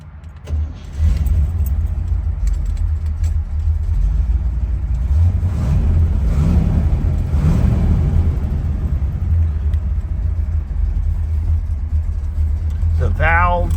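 A 1964 Chevrolet Corvette 327 cubic-inch 365-horsepower V8 idles with a deep, steady rumble close by, while someone talks over it throughout.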